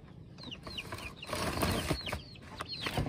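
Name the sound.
chicks cheeping in their enclosure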